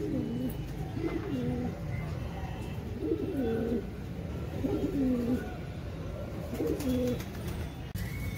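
Racing pigeons coo nearby in repeated soft, throaty phrases, about five calls spaced a second or so apart over a low background hum.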